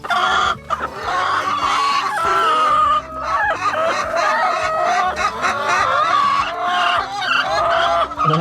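Laying hens cluck continuously on a farm, a dense overlapping chorus close by, with occasional higher squawks and no talking.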